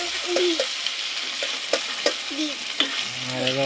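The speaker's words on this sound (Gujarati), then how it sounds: "હવે પાછા બધું વસ્તુ નાખીને હલાવી રહ્યા છે" Ingredients sizzling in a hot pan while a spoon stirs and scrapes, a steady loud hiss broken by several sharp clinks and scrapes, close up with no talk.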